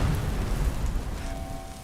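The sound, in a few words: thunder shockwave explosion from Skyrim mod armour, video game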